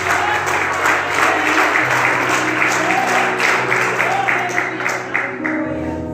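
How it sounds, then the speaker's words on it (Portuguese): Congregation applauding during a church service, continuous loud clapping with a sustained tone underneath, likely keyboard or organ, running throughout. "Aplaudir Jesus."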